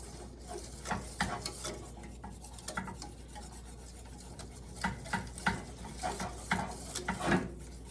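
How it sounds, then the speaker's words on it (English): Chocolate pie filling stirred in a pot, with soft, quiet scraping and rubbing strokes of a spoon at an uneven rhythm, a few sharper clicks against the pot, no talking. "Let's stir that in there and see what it does"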